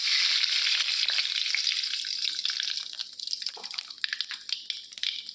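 Onion dropped into hot oil for a lightly spicy tilapia fish curry, sizzling in a strong, steady hiss that eases slightly and crackles on without any talk.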